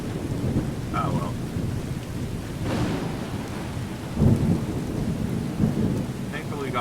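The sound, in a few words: thunderstorm with rain in the video game Skyrim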